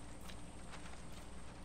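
Soft, steady clip-clop of horse hooves walking at an even pace in Far Cry 6, faint and alone.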